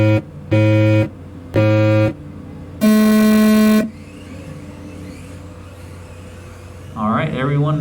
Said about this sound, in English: We're gonna hear 3 beeps.